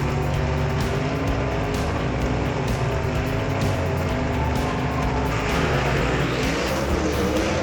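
Gasser drag cars with 477 cubic inch engines thunder down the strip in a final night race, a loud continuous roar of big-engine power with rising pitch, steady and close, no talk over it.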